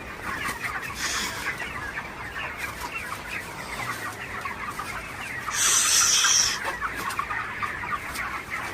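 Broiler chickens on a hot farm cluck steadily as a dense flock, with a brief louder, higher burst of calls midway, close and without speech.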